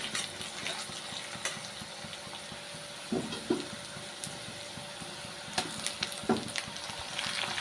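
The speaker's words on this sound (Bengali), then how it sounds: "পেঁয়াজটা আমার ভাজা হয়ে এসছে, এবার টমেটো কুচিটার মধ্যে দিয়ে দেবো।" Sliced onions and chopped tomato fry together in a pan for a potato curry, giving a soft, steady sizzle with occasional stirring scrapes and small clinks, faint and with no talking.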